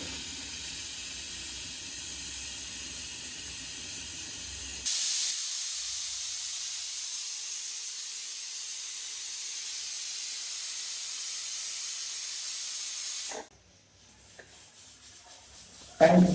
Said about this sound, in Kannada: ಸ್ಟೀಮ್ ಹೆಂಗೆ ಬರ್ತಾ ಇದೆ.